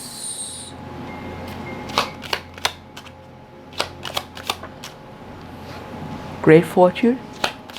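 Tarot cards shuffled and drawn from a deck: soft, scattered flicks and taps, with a quick flurry of card snaps near the end, heard between and under a person talking.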